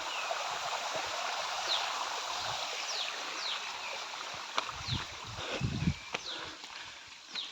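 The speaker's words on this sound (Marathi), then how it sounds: "हा झरा." A small jungle stream flows in a soft, continuous wash of water, joined by short bird chirps and a few dull thuds and footfalls near the end.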